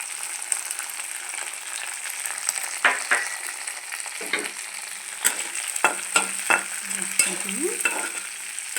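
Onion, green chillies and ginger fry in a pan with a continuous crackling sizzle, broken by several sharp scrapes and stirs of a spatula against the metal, close and clear with no talking.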